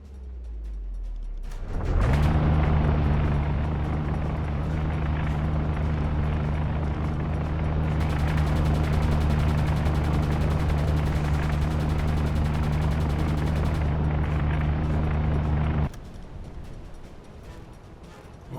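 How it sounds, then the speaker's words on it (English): Enemy aircraft attacking overhead in the submarine game UBOAT, a loud droning engine roar with steady low hum rising in at the start and holding for about fourteen seconds with rattling gunfire mixed in, then cutting off abruptly. "see if we can take down this aircraft"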